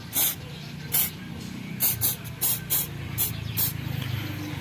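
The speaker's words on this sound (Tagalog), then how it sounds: "Spray natin." Asphalt remover is sprayed from a hand spray bottle in a string of short, sharp hissing bursts, about eight squirts at an uneven pace, close and loud.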